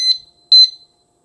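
Motorcycle disk brake lock alarm on a Honda Grom, rated at 110 dB, gives two short, loud, high-pitched electronic beeps close by, with a brief gap between them and no voices.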